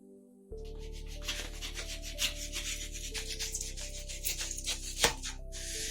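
A sharp blade cuts and shapes polystyrene foam close by, giving a continuous scraping, rasping rub with small crackling spikes over a steady low hum, no speech.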